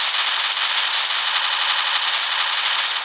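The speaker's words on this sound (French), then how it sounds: "Putain, il faut combien de balles pour le tuer?" Sustained automatic gunfire in the video game Free Fire MAX, a dense unbroken burst of rapid shots lasting the whole stretch, loud and close with no voices over it.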